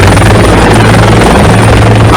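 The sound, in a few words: rescue helicopters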